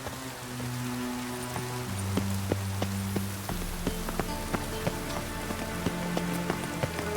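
Rain in The Witcher 3, a steady wash of falling rain with scattered sharp drip taps, under low sustained tones of game ambience, no talking.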